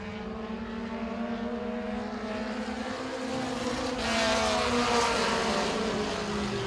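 Race cars including a Mustang roar down the backstretch of Baer Field Motorsports Park during a season championship race, a steady dense engine drone that swells louder as the pack passes.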